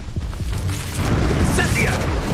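A Confringo fire spell blasts in Hogwarts Legacy, a dense roaring burst with a low rumble that swells and holds steady to the end, with voices mixed in.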